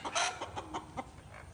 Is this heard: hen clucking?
yes